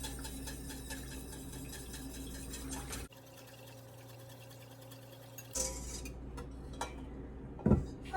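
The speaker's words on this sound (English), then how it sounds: "I'm just gonna whisk this egg mixture back into the lemon" A whisk beating egg mixture into a lemon mixture in a pan, giving faint continuous metallic scraping and light clinks with a couple of sharper knocks near the end.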